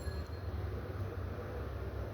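A minecart rolls along a rail in Minecraft, a steady low rumbling drone of rail travel that continues evenly throughout.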